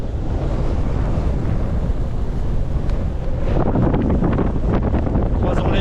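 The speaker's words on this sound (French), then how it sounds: "comme le vent est puissant, ça soulève le sable et la terre" Powerful wind sweeps an arid desert during a storm, lifting sand and soil, roaring loudly and buffeting the microphone in continuous close gusts that swell stronger toward the end.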